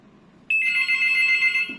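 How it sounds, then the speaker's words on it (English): An analogue hotel telephone ringer sounds one steady, high, bright electronic ring at close range, starting abruptly after a brief quiet moment and lasting just over a second. "Ringer sound is very clear and high."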